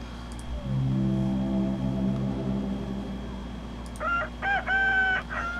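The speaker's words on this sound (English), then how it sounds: "We're bringing in the rooster." A sampled rooster crow drops into a beat being built, with a few loud, close, stuttered crow bursts near the end over a steady low droning backing.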